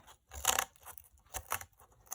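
Scissors snip through thick cardboard in two close, crisp crunching cuts, starting from the bottom edge and working toward the middle, with a quiet pause between strokes.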